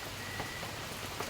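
Light rain falls steadily, a faint, even hiss with scattered soft drop patters on a surface and no talk.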